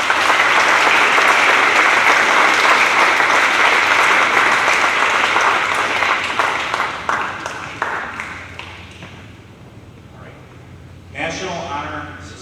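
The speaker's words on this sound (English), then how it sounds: "Congratulations and give yourself a round of applause." Audience applause at an academic awards presentation, a dense, loud wash of clapping that carries for several seconds and then thins out and fades, with a voice speaking briefly near the end.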